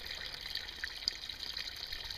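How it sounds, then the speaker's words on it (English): Water trickles steadily from a drain pipe in an off-grid outdoor setting, a faint, continuous hiss and dribble with a few soft splashes. "So as long as this water is running"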